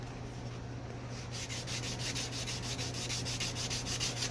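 A guitar string nut is sanded down to remove excess material, making a continuous, close, rhythmic rubbing and scratching with steady back-and-forth strokes.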